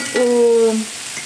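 Mexican-style meatballs fry in a pan with a steady, soft sizzle, while a brief, clear squeaky tone rises over it near the start.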